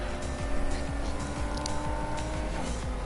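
Lamborghini engine racing in Need for Speed Heat, a loud continuous high-revving drone with rapid rhythmic pulses and gear changes.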